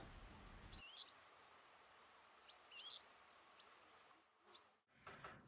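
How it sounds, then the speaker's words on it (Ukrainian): Songbirds chirp in spring, several bright high twitters arriving in short bursts with quiet pauses between, fairly close and clear over a soft outdoor background. "веселий щебет пташок, які повернулися з теплих країв"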